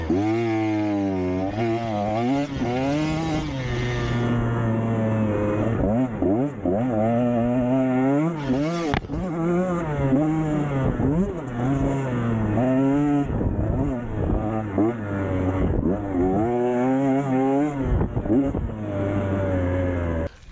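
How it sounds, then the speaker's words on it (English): A 125cc dirt bike engine revs and strains while riding through loose sand. Its buzzy note rises and falls again and again over about twenty seconds, close and loud throughout. "A 125 isn't powerful enough. It won't pull me through the loose sand."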